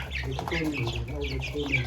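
Hens and roosters on a Punjabi farm cluck in a steady, close, busy chatter over a low background hum, with no clear gaps.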